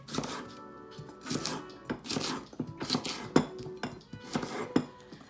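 A knife chops fennel bulbs on a cutting board, with about seven distinct, fairly loud blade strikes at an uneven rhythm, each hitting the board with a sharp knock and clink.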